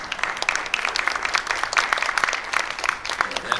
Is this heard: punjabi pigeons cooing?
no